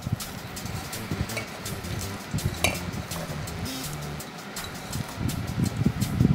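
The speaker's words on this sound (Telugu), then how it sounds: "ఈ విధంగా కలపడం వల్ల మనకి ఈ ఉల్లిపాయ అనేది ముక్కలు ముక్కలుగా బాగా" Sliced onion being stirred and broken apart into pakoda batter in a bowl, a soft continuous wet mixing with occasional light clinks of utensil against the dish.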